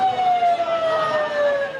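An ambulance siren wails in a funeral procession through a dense crowd, a loud gliding tone over road noise and crowd rumble, close and continuous.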